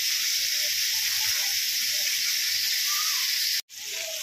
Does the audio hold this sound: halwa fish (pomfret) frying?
yes